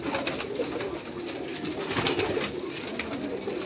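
Pigeons cooing on a Karachi rooftop, a continuous overlapping murmur of several birds with scattered wing flutters and clicks, close and steady with no talk.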